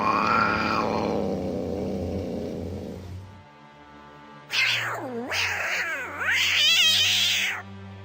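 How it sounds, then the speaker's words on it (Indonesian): Black cats fighting on a school fence give loud, drawn-out yowls, a long wail, a brief pause, then rising and falling caterwauls with wavering pitch, close and intense. "kucing hitam yang sedang berkelahi di atas pagar sekolah"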